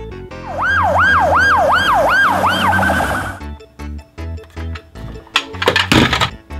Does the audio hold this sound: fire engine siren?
yes